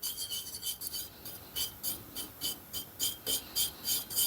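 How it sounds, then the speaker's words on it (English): A whisk beats finely grated cheese into a thick paste for cacio e pepe, producing close, regular scraping strokes at a brisk, even rhythm. "So we're going to give this a good whisk, and we're making basically a paste out of this"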